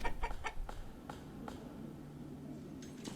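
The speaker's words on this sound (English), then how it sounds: "Got a chicken roaming around" Chicken clucks from a coop in the medieval village-building game Manor Lords, several short clucks early on, fading to a low ambient hum.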